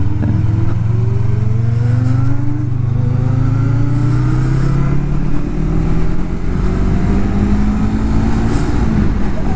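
A Yamaha R25 motorcycle engine revs hard at high RPM, its whining pitch sweeping upward repeatedly in rising pulls, loud and close, with other motorcycle engines droning underneath.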